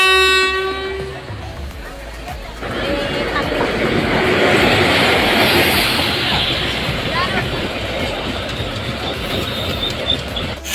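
A MEMU special train stands at the platform on the Katwa to Rampurhat route, sounding a loud horn blast at the start before a steady rumble and clatter of rail noise, with people talking around.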